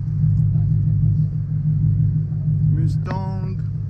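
A Ford Mustang GT's V8 engine idles with a steady, deep low rumble close by, and a voice speaks briefly over it near the end.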